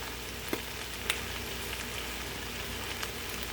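Minced onions frying in a pan alongside bok choy, a steady soft sizzle with a few faint clicks of a utensil, moderately quiet and close with no talking.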